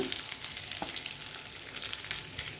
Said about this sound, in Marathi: गॅस बारीकच ठेवायचं आणि एक मिनिट मसाला भाजून घ्यायचं